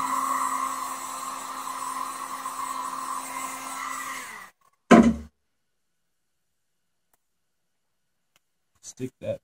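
A heat gun blows hot air steadily with a strong whine for several seconds while drying a handmade shield, then cuts off with a click, followed by silence and a few soft knocks.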